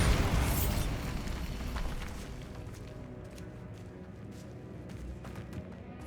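A Bombarda spell explosion in Hogwarts Legacy erupts with a loud, close blast, then decays over several seconds into rumbling, crackling debris and scattered small pops.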